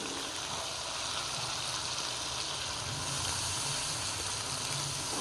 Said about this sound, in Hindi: मैं इसमें थोड़ा सा पानी डाल लेता हूँ ताकि ये जो है नीचे ना लगे।